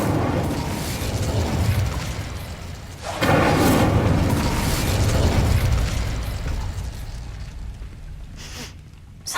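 An Incendio fire spell bursts in Hogwarts Legacy with a loud whooshing blast, followed by a roaring flame that slowly fades, with game ambience around it.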